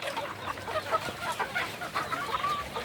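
Free-range Indonesian village chickens (ayam kampung) cluck in the open, a scattered series of soft, irregular clucks and chirps, fairly faint and at a moderate distance, with no talking.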